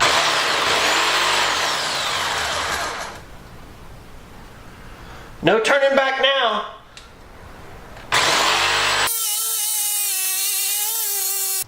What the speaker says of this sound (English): I'm going to go ahead and use my jigsaw and cut this out